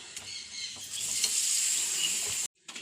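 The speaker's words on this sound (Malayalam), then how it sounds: "അപ്പോൾ കാഞ്ഞ് പപ്പടം മറക്കട്ടെ" Papadam fries in hot coconut oil in a pan, giving a close, steady crackling sizzle that fades out abruptly near the end.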